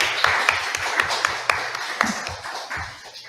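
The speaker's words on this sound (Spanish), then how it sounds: "Un aplauso." Applause at a Spanish-language book presentation after a poetry reading, a sparse handful of claps with a few sharper taps over a low background hum, moderately close and brief.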